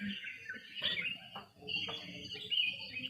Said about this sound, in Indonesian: nyanyian alam dari suara-suara burung liar